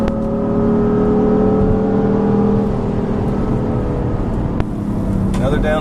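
A 2015 BMW M3/M4 engine sounds steadily under load on track at Road America, its tone holding and then briefly dipping for a short upshift into fourth gear, with continuous in-car drone throughout.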